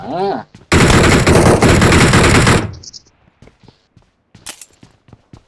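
Sustained automatic gunfire from PUBG Mobile, a loud dense burst lasting about two seconds followed by scattered sharp single shots and footstep-like taps, with a brief voice at the start.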